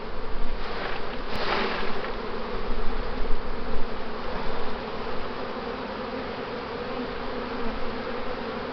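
Honey bees buzz thickly around a hive with new foundation, a dense continuous drone of many wings nearby, with individual bees swelling louder as they pass close.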